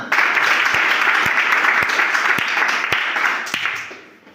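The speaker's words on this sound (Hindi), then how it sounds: "ताली बजाओ ना" A classroom of students applauds during a spoken English lesson, a steady burst of many hands clapping together at close range that fades out toward the end.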